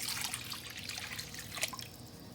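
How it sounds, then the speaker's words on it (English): Water poured from a measure into a cooking pot while making Jamaican turn cornmeal, a soft, steady trickle and splash lasting a couple of seconds, fairly quiet and close. "the next thing I'm going to go in with is 2 cups of water"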